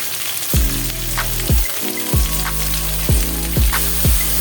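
Sliced onions are added to hot oil in a pan that already holds green chillies and curry leaves, for a beef and koorka curry. A steady loud sizzle runs throughout, with repeated sharp scraping stirs of a spoon against the pan.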